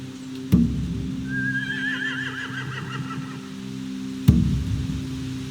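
A horse gives a loud, quavering whinny in a video game, The Walking Dead: The Final Season, rising and shaking for a couple of seconds, framed by two sharp thumps over a steady hum.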